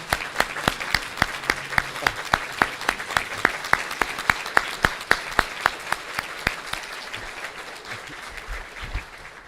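Audience at an awards ceremony applauding a singer, clear individual claps in a fairly regular rhythm over a softer background of more clapping, easing off toward the end.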